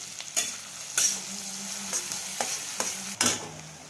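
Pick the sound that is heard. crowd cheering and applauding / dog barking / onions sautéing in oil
onions sautéing in oil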